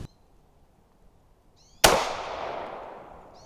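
Single sharp shot from a 10mm pistol firing a Norma load, loud and close with a ringing decay, after near silence; faint chirps of a chronograph beep before and after.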